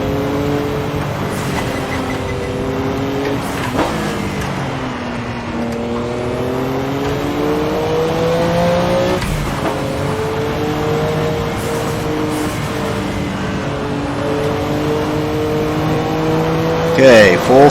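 Porsche 962C race car in a sim racing game, its engine howling at full throttle with rising and falling revs through gear changes, loud and continuous, with a voice talking over it throughout.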